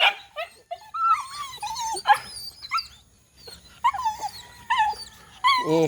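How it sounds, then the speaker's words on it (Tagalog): A dog whines and yips in high, wavering bursts, close and insistent, with brief pauses between the cries. "Ang wala dito si Sona, yung barako kong aso."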